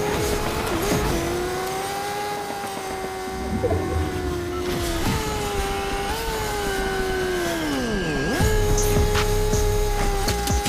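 A car is driven in Fortnite, its engine droning steadily with pitch sliding up and down as it accelerates and slows, one sharp dip like a hard turn or braking, loud and continuous with game noise around it.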